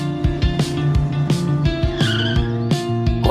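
A car pulls up with tire squeal and engine revving, loud and close, in a repeated pattern of rising and falling screeches over several seconds.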